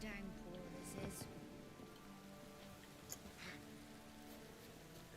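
Steady downpour in The Witcher 3 with a constant hiss of rain on surfaces, a few scattered louder spatters, and game music and a voice underneath.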